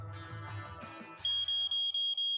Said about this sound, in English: Code 16, malfunctioning smoke detector.